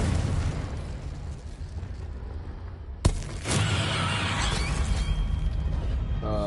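A Confringo fire spell explodes in the Hogwarts Legacy video game: one sudden sharp blast midway, then a sustained crackling, rumbling tail over continuous game background noise.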